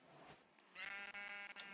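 A sheep in a Minecraft-style team-battle video game lets out a single quiet bleat, a wavering drawn-out baa heard alone.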